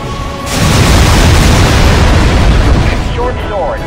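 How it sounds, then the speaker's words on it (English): Air-support bombs exploding in the real-time strategy game Halo Wars, a loud sustained roar of blasts and rumbling debris beginning half a second in, with game voice chatter over it. "Bombs away."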